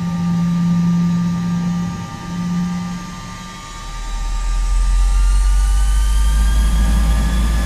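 Airbus A320 jet engines spooling up to takeoff power in a flight simulator: a steady loud whine with rising tonal lines, then a deep low rumble swelling from midway and holding, no talk.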